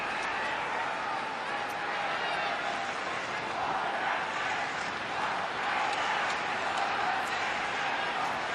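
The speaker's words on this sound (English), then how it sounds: "Crowd building still" Crowd noise at an AFL football match between North Melbourne and Sydney Swans, a constant dense roar of a large stadium crowd with cheering swells, under faint commentary.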